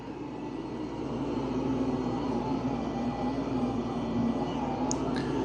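A Roomba 504 robot vacuum cleans a very dirty carpet, a steady close whirring hum of motor and brushes that holds constant throughout, with a few faint clicks near the end.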